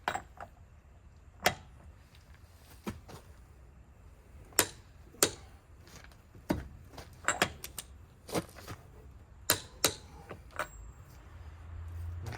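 A torque wrench set to 177 foot-pounds on the front axle nut of a 4WD Chevy Silverado, sharp isolated clicks and knocks spaced irregularly over quiet background, close and distinct.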